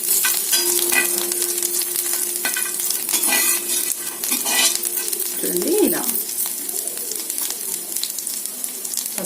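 Basmati rice mixture fries and sizzles steadily in a pan while a spoon stirs and scrapes it in repeated close strokes, with no talking.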